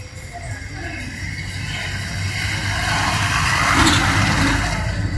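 A bus engine idles and revs at the new Pudukkottai bus stand, a steady broadband rumble that swells slightly in the middle amid open-air station noise.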